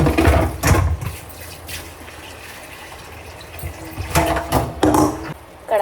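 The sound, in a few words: washing a copper kadhai (wok) with water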